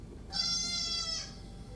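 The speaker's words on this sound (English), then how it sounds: "That's a baby. It's a goat." A baby goat gives a single high, wavering bleat lasting about a second, clear and moderately close over faint background noise.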